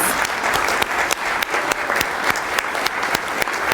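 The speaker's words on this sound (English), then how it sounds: "Let's give them a round of applause." Sustained applause from a board meeting audience honoring standing veterans, steady and close, with sharper individual claps popping through the crowd texture and no talking.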